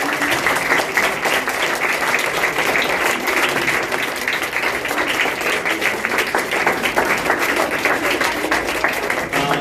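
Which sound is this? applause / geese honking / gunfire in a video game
applause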